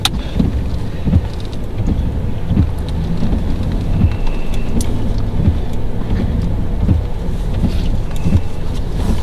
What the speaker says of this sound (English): That wind and rain, it's getting cold.